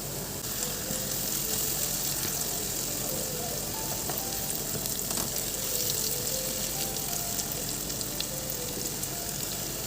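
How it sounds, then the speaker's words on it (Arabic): Chopped onion sizzles in oil and a spoonful of ghee or butter in a pan on the stove. The frying is close, steady and crackling, with a continuous hiss and scattered pops throughout, and no voices. "نزلت ببصلة مفرومة وشوية زيت ومعلقة سمنة بلدي أو زبدة اللي موجودة عندك كل المتاح. هنشوحهم كده تشويحة"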